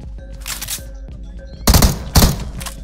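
Gunfire in the mobile battle-royale game PUBG Mobile: two loud, sharp bursts of shots come close together in the second half, after quieter, more distant firing and game sounds.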